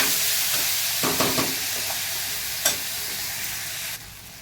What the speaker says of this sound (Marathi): हे डाळ चांगली आपण परतून घेऊया गॅसची फ्लेम लो करायची आहे